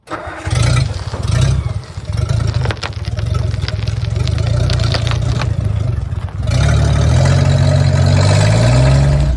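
A 1962 Ford F600 truck engine pulls away in first gear: a loud, steady low rumble that grows heavier and rises in pitch partway through as the old truck starts moving.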